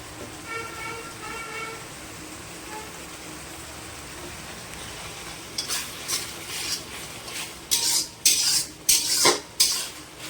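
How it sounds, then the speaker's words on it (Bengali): Spice masala being sautéed in a pan with salt added, heard as scraping and clinking of a spatula against the pan with a soft sizzle. A burst of louder, rhythmic stirring strokes comes in the second half. "মশলাটা একটু কষতে থাকুক। তখন অল্প লবণ দিয়েছিলাম, আমি এখানে আর একটু লবণ অ্যাড করে নেব।"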